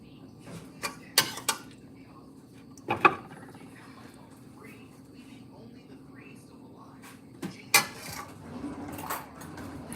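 Dishware and utensil clatter as a big portion of stir-fried broccoli and pork is served into a bowl, with a few sharp clinks and scrapes spread across quiet room tone, soft talking faintly underneath.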